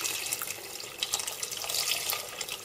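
Vegetable stock pours into a pumpkin and chickpea soup pot in a steady, splashy, gurgling stream, close and moderately loud, with no voices.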